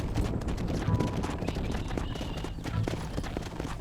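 Horse hooves clip-clop steadily on the ground in the Red Dead Redemption video game, heard at moderate distance under dense game ambience, with no voice over them.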